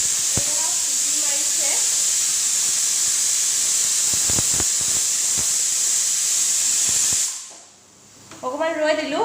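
A pressure cooker whistles as rice pudding and peas cook, a loud continuous hissing jet of steam with a few faint clinks, cutting off abruptly near the end, followed by someone talking.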